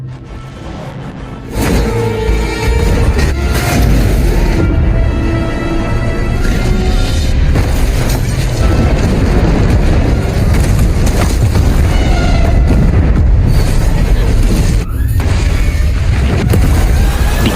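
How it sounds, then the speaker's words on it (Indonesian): Loud, dense cinematic crashes and booming impacts from a film scene of a grenade blast and a ship crashing into a rock cliff rumble continuously, with whooshes and a heavy explosive blast mixed in. "ngelempar granat yang bikin kapal utama musuh jatuh menabrak tebing batu"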